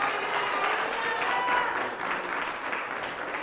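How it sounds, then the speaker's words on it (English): A church congregation applauding during a sermon, a continuous, fairly even patter of many hands clapping at moderate loudness, with faint tonal sounds in the background. "If you believe it, give God a hand of applause."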